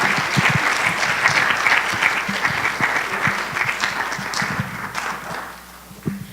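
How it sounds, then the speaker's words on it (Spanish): A sustained round of audience applause at an academic forum in Colombia, dense and steady for several seconds before tapering off at the end. "Démosle un fuerte aplauso."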